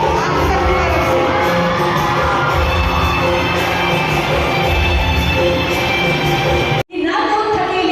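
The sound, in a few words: audience applause and cheering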